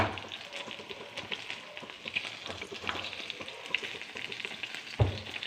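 Pomfret fish frying in a pan gives a steady close sizzle with crackling oil and occasional stirring scrapes, a soft clunk near the end, with no talk.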